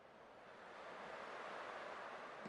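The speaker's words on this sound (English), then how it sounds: "I can still clearly hear the sound of the waves." Steady broadband wash of ocean waves rolling in a video game scene, Honkai Star Rail, a continuous surf roar that swells slightly and holds with no voices over it.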